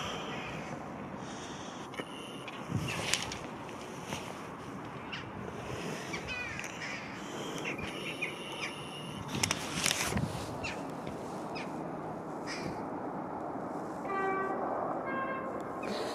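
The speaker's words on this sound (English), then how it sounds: "You can hear the rumble of the diesel rumbling away." A BR Class 31 diesel locomotive rumbles at Eridge, a steady low engine drone with wind buffeting the microphone and a few brief knocks and rattles over it.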